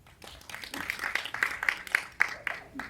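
Scattered applause from a small comedy show audience, a series of light claps that stays fairly soft, with faint voices mixed in.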